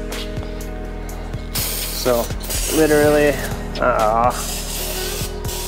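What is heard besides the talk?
spraying brake cleaner on brake rotors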